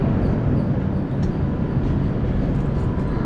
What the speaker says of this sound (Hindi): तो बिल्कुल 2 ही मिनट के हॉल्ट के बाद अब हम निकल चले हैं कुप्पम रेलवे स्टेशन से।